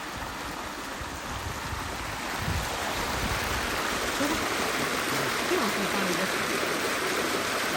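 Irrigation water flows into a farm field where vegetables are grown, a steady broadband rushing and gurgling close by that grows slightly louder midway, with no voices.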